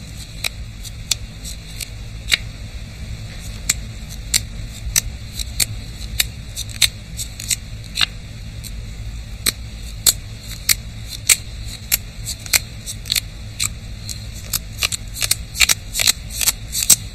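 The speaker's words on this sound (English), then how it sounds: "just sitting there and shuffling cards for hours and thinking about them" Playing cards shuffled by hand, a long series of crisp snapping riffles and flicks at an uneven rhythm that grows faster and denser toward the end, close and clear over quiet room hum.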